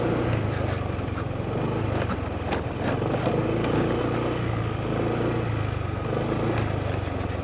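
A motorcycle on a road, rumbling steadily and fairly close with a continuous engine drone throughout, no talk over it.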